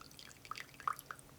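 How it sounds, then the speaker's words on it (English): Raw puerh tea drips from a pouring vessel as loose leaves are strained, a few faint, sparse, irregular droplet plinks in a quiet room. "You need to pour it like you're gonna pour it"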